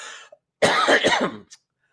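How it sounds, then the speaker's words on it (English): A short burst of harsh, close coughing, several rapid hacks run together, with silence before and after. "Still a little coughing"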